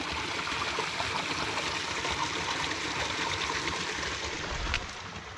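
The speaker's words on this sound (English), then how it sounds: "this is the really good water stream crossing." A mountain stream crossing on a hiking trail near Mount Shuksan, with steady close rushing and trickling water that fills the whole stretch and has no voices.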